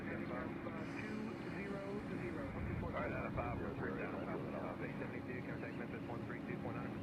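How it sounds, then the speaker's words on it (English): An airliner at Nashville International Airport gives a steady, distant engine roar under constant breeze and wind noise, with muffled voices partway through. "So this plane here is going to Kurt Warner country."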